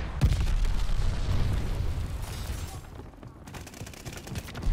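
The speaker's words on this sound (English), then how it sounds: "Friendly sending a glide bomb." Glide bomb explosions in the Call of Duty Vanguard video game, a dense rumbling barrage of booms and crackling blasts blending with gunfire, loud and continuous throughout the moment.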